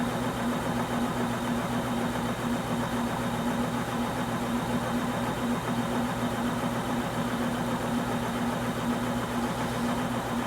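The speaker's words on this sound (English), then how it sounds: "now we're going to look at the RPMs of the motor with nothing next to the wheel" Electric motor spinning a flywheel on a free-energy Kromrey patent rig, a steady mechanical hum with a constant low drone and vibration, running alone without any talk.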